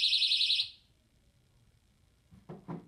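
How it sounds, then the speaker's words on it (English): A bedroom door alarm goes off with a loud, rapid, high-pitched electronic beeping that pulses steadily for about half a second and then cuts out, followed by quiet room tone and a couple of brief soft knocks near the end. "the alarm goes off."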